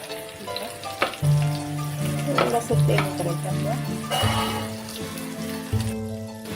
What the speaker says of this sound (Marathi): आपण याच्यामध्ये छान असा फ्राय करून घेणार आहोत